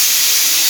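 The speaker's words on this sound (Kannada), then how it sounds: "ಅನ್ನ ವಿಷಲ್ ಆಯ್ತು." A pressure cooker cooking rice releases a brief, loud, steady hiss of escaping steam from its whistle, heard close and alone.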